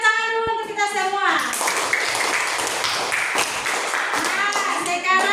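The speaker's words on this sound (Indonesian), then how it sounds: "tepuk tangan dulu untuk kita semua" Schoolchildren in a classroom clap together, a dense burst of hand claps following a teacher's voice, filling most of the clip under faint chatter.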